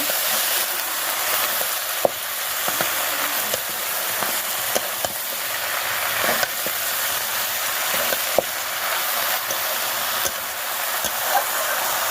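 Vegetables sautéing and stirred in a hot pan for a prawn and Malabar spinach dish, a loud continuous sizzle with scattered sharp spatula clicks against the pan.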